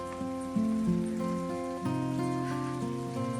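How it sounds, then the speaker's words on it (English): Rain falls steadily on a garden during a dry July, a soft, even patter running under louder, sustained musical tones for the whole stretch. "and it starts raining."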